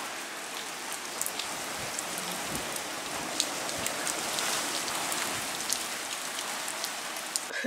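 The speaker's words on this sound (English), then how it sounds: "We're getting these huge gusts of wind which are bringing the rain as well." Steady rain patters on surfaces with occasional louder drops, a continuous hiss throughout with huge gusts of wind faintly swelling in the background, in Wales.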